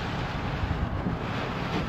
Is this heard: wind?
yes